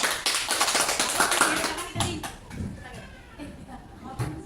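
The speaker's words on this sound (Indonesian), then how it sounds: "bisa tepuk tangan" Students in a school group-guidance session clap their hands in bursts of sharp, close claps, mixed with children's chatter and voices talking throughout.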